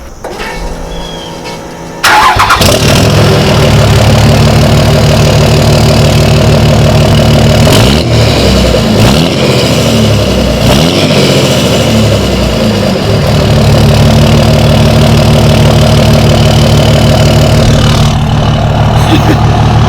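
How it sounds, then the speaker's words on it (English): A Cummins diesel pickup truck engine cranks and fires up from cold after a brief quiet moment, then settles into a loud, rumbling idle that continues steadily, close by. "Let's give it a cold start up right now and see what it sounds like."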